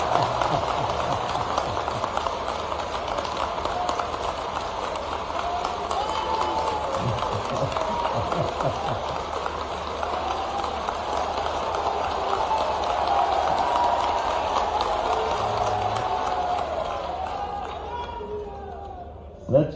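An audience at a public event in India applauding: a continuous, dense roar of clapping and crowd noise that holds steady for most of the stretch before fading out near the end.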